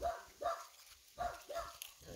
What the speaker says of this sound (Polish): jest piesek na takiej lince.